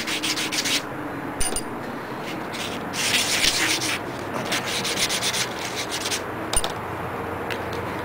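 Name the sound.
rifle bolt rubbed on sandpaper, sanding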